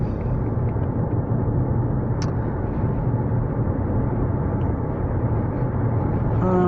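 Steady, smooth road and engine drone from a Mitsubishi Outlander PHEV accelerating on a highway, a constant dense rumble with no talking.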